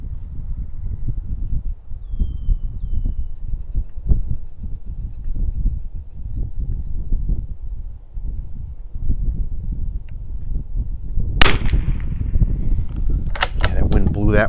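Near the end a Winchester model 52D rifle with a Redfield 3200 scope fires a sharp crack, followed by a few more snaps and clicks over steady wind noise on an outdoor range.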